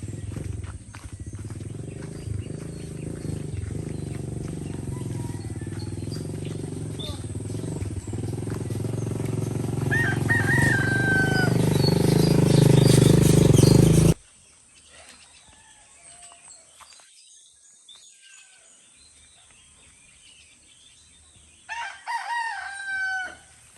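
A rooster crows amid a loud rushing background. The noise then drops away, and another crow follows near the end.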